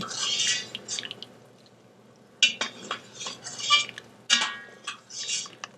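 Vegetables are fished out of an Instant Pot after pot roast cooking, with utensils clinking and scraping against the metal pot and liquid dripping in short, close bursts.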